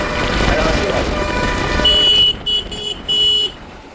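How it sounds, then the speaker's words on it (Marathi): Horns honk on a busy highway at night, with loud sustained blasts that cut in and out in several bursts over the rumble of passing traffic, heard close by. "नुसते ट्रक हॉर्न ऐकले का"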